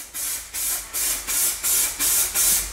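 Several rhythmic bursts of hissing spray from a DNA aerosol paint can, each pass lasting about half a second with brief gaps, steady and close, coating a synthetic gun stock, with no talk.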